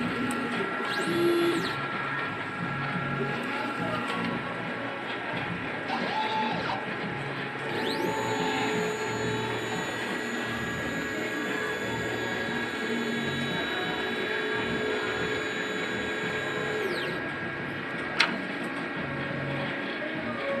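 DTF printer running a nozzle check test print, a steady mechanical whir with the print head carriage sliding back and forth in long sweeps and a sharp click near the end.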